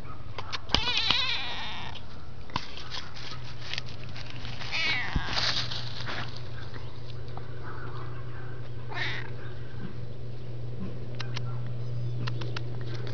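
A cat meows several times close by among other cats, with short cries spread through the clip over a steady low hum and faint background rustle.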